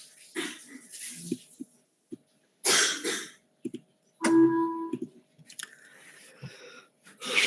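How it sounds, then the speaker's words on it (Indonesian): A person coughs repeatedly in scattered bursts, some sharp and loud, others softer with throat clearing and wheezy breaths, fairly close in a quiet room. "Saya lagi batuk-batuk terus nih."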